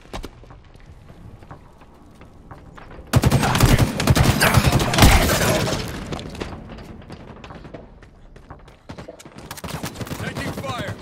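Loud, rapid gunfire in a Halo Infinite ranked Arena match erupts suddenly into a dense barrage, fades, then returns in a later burst, with occasional game voice callouts.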